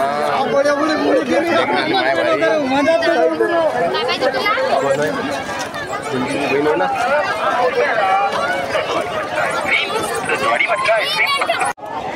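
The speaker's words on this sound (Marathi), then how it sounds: "गर्दी काय गर्दी आहे रे." Dense crowd chatter at a village temple fair (Lashkari Maharaj yatra), many overlapping voices forming a loud, continuous hubbub that stays steady and close throughout.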